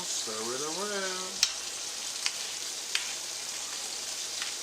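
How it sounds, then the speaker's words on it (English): A mixture frying in oil in a pan, steady hissing sizzle throughout with a few sharp clicks of a utensil stirring it; a voice briefly talks near the start. "Stir it around, stir it around."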